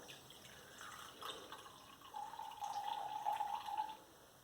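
Quiet water pouring and trickling from a container holding sand, a soft steady stream lasting a couple of seconds against faint background hiss.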